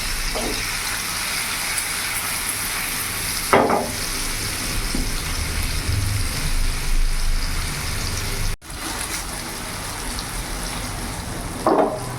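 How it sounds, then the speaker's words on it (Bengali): Paneer pieces shallow fry in refined oil in a hot frying pan, giving a steady, fairly loud sizzle with occasional scrapes and clatters of a utensil, and no voices. "আমি হালকা একটু শ্যালো ফ্রাই করে নেব।"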